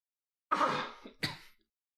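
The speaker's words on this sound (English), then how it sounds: "Sorry about the coughing." One person nearby clears the throat with a harsh rasp, then gives a short cough, two close bursts against quiet.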